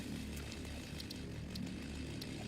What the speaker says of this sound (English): Oh god, yeah, the chainsaw is very loud.